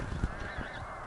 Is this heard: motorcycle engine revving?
no